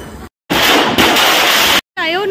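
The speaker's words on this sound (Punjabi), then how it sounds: "ਬੀੜੀ ਬੰਬ ਹੁੰਦੇ ਆ ਨਾ ਇਹਨੂੰ ਬੀੜੀ ਬੰਬ ਵੀ ਕਹਿੰਦੇ ਨਾ ਲੜੀ ਪੂੜੀ ਚਲਾਈ" A string of bidi bomb Diwali firecrackers goes off in a loud, dense crackling burst lasting over a second, briefly interrupted, then cut off, with a voice and festive sounds around it.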